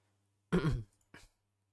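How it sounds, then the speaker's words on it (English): A person coughs once with a harsh, close burst, then gives a shorter, softer second cough, in an otherwise quiet room with a faint low hum. "Apologize for the coughing."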